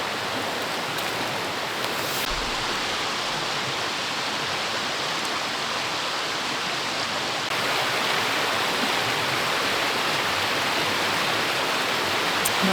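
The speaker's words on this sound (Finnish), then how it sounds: "Mä olen alkanut tottumaan tohon kosken ääneen jo oikeastaan tosi paljon" River rapids rush beside a forest on a winter night, a constant broadband roar of flowing water, close and unbroken, swelling slightly louder partway through.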